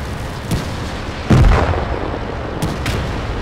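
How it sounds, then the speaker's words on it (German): Tank battle in the video game World of Tanks, with a steady roar of combat and a heavy booming explosion partway through, followed by scattered gunfire pops. "Unsere 10er-Gefechte sind schon ziemlich fett, die ganzen Explosionsgeräuschen."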